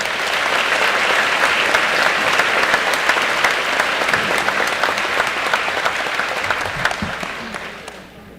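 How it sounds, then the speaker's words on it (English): High school graduation crowd clapping for the senior class advisors, a sustained broad roar of applause from a large audience that gradually fades out at the close. "Let's give them a round of applause, please."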